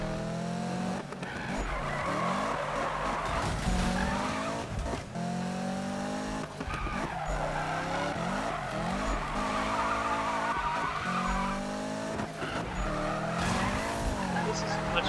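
Tires squeal continuously as a car drifts and slides its rear end around a corner in the Need for Speed 2015 racing game, engine droning underneath throughout, loud and close with the sliding screech sustained.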